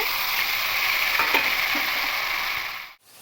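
Cinnamon, cloves and cardamom sizzling in hot oil, a loud close hiss that holds steady for about three seconds, then cuts off sharply.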